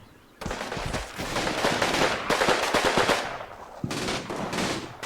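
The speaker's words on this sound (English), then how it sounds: "the machine gun is suppressing them quite well" Machine gun bursts from the WWII strategy game Combat Mission, loud rapid rattling volleys after a brief quiet start, with a short pause before another sustained burst near the end.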